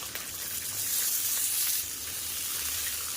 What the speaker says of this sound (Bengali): এবার ছোলাটাকে একটু তেলের মধ্যে ভাজা করে নেব